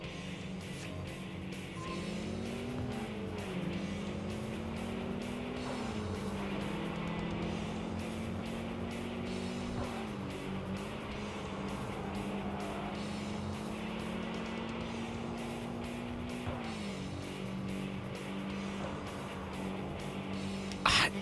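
Cars race in Tokyo Xtreme Racer 3, a steady engine drone climbing and dropping through gear shifts for the whole stretch, loud and continuous, with a faint squeal at the very end.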